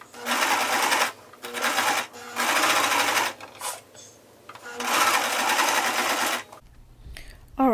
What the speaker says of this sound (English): now it's time to sew up our pocket